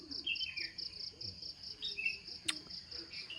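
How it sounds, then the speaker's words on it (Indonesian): Birds call behind a house: faint, scattered chirps and tweets over a steady, pulsing insect trill like crickets, with one sharp click partway through and no talk. "Suara burung ini adalah posisi tepatnya berada di belakang rumah."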